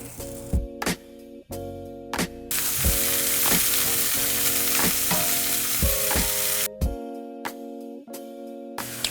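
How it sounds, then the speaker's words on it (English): Corn sizzling on a smoking hot grill pan indoors, a steady loud hiss broken by clattering knocks and scrapes as pieces are placed and moved, with a background musical tone running through. "as you can see, it's smoking hot, so this corn is gonna go on"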